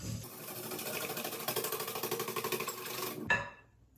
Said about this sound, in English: vanilla extract, pinch of salt, and then just whisk those together.